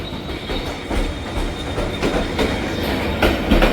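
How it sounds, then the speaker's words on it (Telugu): A train rumbles past at close range through Hue station, Vietnam, wheels clattering and squealing over the rails in a continuous roar. "ఏదో ట్రైన్ వెళ్తుంది"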